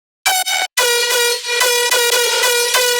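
Crunchy metallic synth bass lead with adjusted stereo width, sounding as loud buzzy sustained notes. Two short stabs come first, then a long held tone with slight shifts in timbre.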